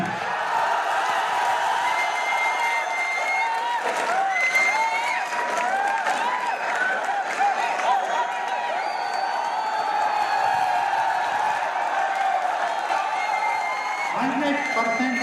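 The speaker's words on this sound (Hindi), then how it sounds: "तालियां" A crowd applauds steadily at a gathering honouring the author of the HBTI technical introduction, with dense, continuous clapping and some cheering that stays even throughout, mixed with voices.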